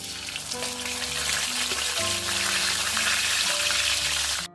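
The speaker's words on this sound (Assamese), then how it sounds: "মই কলপচলাৰ ভাজি বনাবৰ কাৰণে মাছৰ মাথাকেইকণ ফ্ৰাই কৰি লৈছোঁ" Steady frying hiss of fish heads in hot oil, with a low tonal hum running underneath, continuous and fairly close, ending abruptly.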